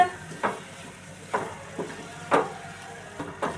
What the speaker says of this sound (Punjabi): ਹੁਣ ਇਹਨੂੰ ਕਰਾਂਗੇ ਜੀ ਮਿਕਸ